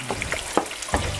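Homemade tomato sauce with hoisin and fish sauce sizzles in a pan on high heat, with brief stirring scrapes over a steady crackle and no talk.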